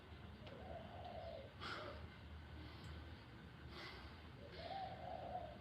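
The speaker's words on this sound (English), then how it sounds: "Listen to the birds, fresh air," Birds call outdoors in a quiet setting, faint repeated soft coos rising from low ambient noise, with a few brief bursts, distant and sparse.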